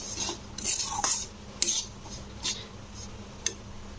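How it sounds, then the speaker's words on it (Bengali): Semolina stirred and fried in a pan over a medium flame for halwa, heard as light spoon scrapes and clinks against the pan, scattered and irregular, close and fairly soft, with no talking. "এইভাবে সুজিটাকে মিনিমাম 2 থেকে 3 মিনিট নাড়তে হবে, মানে ভেজে নিতে হবে সুজিটাকে।"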